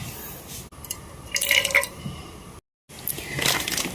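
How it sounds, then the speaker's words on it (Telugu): Oil poured into a kadai for deep frying, a close gurgling, trickling pour with a tonal glug, a brief abrupt break, then more splashing liquid. "ఒక కడాయి పెట్టుకుని మన డీప్ ఫ్రైకి సరిపడా ఆయిల్ పోసుకుందాం"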